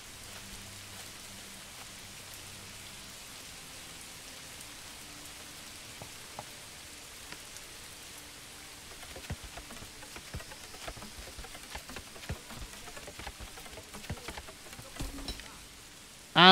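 Steady rain hiss falls across a muddy medieval village in the video game Manor Lords, soft and continuous at first, then growing slightly louder with scattered sharper drops and taps toward the end; no one speaks.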